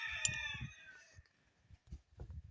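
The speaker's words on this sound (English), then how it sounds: "Ignore all these roosters crowing here." A rooster crows loudly at the start, its call trailing off, followed by quieter scattered clucks and low bird sounds nearby.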